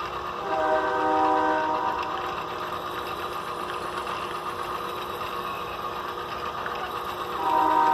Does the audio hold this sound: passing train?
yes